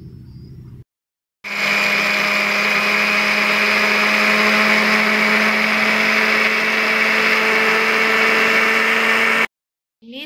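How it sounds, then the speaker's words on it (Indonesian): An electric blender grinds roasted papaya seeds into coffee powder, running as a loud, steady high whine for about eight seconds between brief pauses, with no talk. "sekarang kita akan masuk ke tahap berikutnya, yaitu kita blender biji ini"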